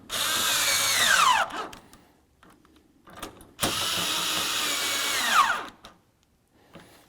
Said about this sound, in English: Start and bolt the bolts and snug them up.